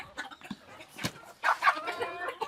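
Farm chickens of native breeds clucking in a pen, with scattered short clucks and calls, some overlapping, at moderate distance.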